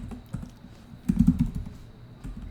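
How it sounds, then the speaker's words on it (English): Keys clatter on a computer keyboard in a short burst of fast typing, close and fairly loud, with a brief pause before it. "I'm going to type in the email address"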